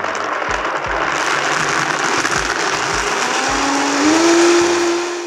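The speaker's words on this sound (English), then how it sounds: "This will go from low to high and then I'll boost it, okay?" A high-speed blender roars loud and close, blending a vegan artichoke dip base, its motor whine rising from low to high speed partway through and holding at full power.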